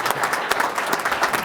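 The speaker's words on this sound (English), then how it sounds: "please, everybody stand up and give Doug Williams a round of applause" A studio audience on a pro football TV show gives a round of applause, a short, loud, dense burst of many people clapping together.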